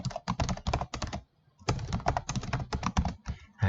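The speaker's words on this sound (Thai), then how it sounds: "เมื่อเราพิมพ์ ชื่อลงไปเรียบร้อยนะครับ" A name is typed on a computer keyboard in Microsoft Word, with rapid, close key clicks in two bursts separated by a short pause and nobody speaking.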